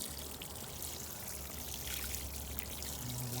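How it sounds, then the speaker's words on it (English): Freshly planted rosemary being watered in a garden, a continuous close pouring and splashing of water onto soil and leaves, steady throughout. "so you want to make sure you water them really good"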